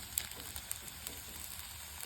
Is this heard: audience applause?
no